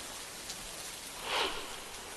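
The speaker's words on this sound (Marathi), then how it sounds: "धाराशिव जिल्ह्यात सुद्धा सलग दुसऱ्या दिवशी जोरदार पाऊस सुरू आहे." Heavy monsoon rain falls steadily in the Dharashiv district of Maharashtra, a continuous broadband hiss of drops with a brief louder swell midway, fairly faint and distant, with no speech.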